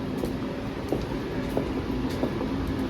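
A metro train at a Vancouver metro station rumbles steadily at close range, with a continuous low roar and periodic rhythmic clicks of wheels over rail joints throughout.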